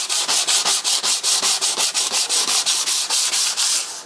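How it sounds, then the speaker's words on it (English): A car panel is hand sanded with 80 grit paper on a hard pad, giving loud, close, rhythmic back-and-forth rasping strokes, about four per second, with no talk. "Just some 80 grit on a relatively hard pad."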